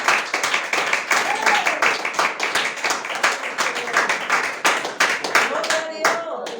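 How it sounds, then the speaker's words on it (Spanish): A church congregation applauds during a Spanish-language sermon, with loud, distinct rhythmic clapping in quick repeated beats, and a voice rising briefly over the hands. "Dale un aplauso al Señor."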